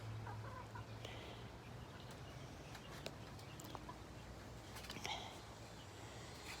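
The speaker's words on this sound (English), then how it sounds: "My little chickens." Backyard hens clucking softly at a distance, with a constant low hum and a few scattered sharper calls and rustles; no talking.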